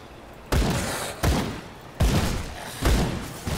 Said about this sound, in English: Time to test out my gun.